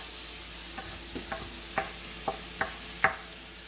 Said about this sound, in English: And I'm going to add that to my onions that's caramelizing.